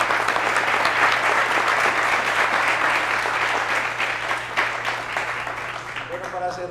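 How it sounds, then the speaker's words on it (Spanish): Applause from a lecture audience after a physics talk, a dense steady wash of many hands clapping that fills the whole stretch and tapers slightly near the end, with a faint voice underneath. "un aplauso para vos"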